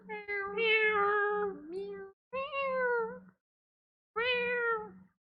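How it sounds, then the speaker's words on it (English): Cats meowing in The Great Ace Attorney Chronicles courtroom video game: three drawn-out, tonal meows, each about a second long, separated by short pauses and heard clearly with no talk over them. "Why are all these cats in the courtroom?"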